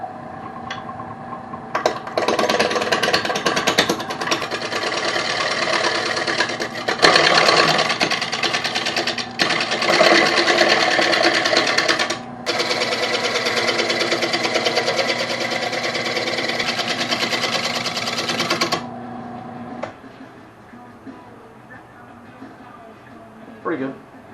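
A wood lathe turns a round tenon, giving a steady droning whir with rough scraping from the tool cutting, the tone shifting and briefly dropping out a few times before stopping near the end.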